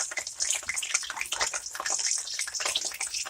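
Sopapilla dough pieces frying in hot oil, a dense steady crackle and sizzle of bubbling with no break and no voices.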